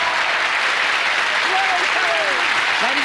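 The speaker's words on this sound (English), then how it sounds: "let's have a nice round of applause for the totally restored Lily Savage" A studio audience at a television variety show applauds loudly and continuously, with a voice rising over the clapping toward the end.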